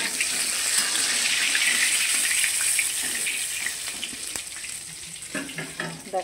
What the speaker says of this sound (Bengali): এই যে দেখো মাছটা খুব সুন্দরভাবে ভাজা হয়ে গেছে 2 পিঠই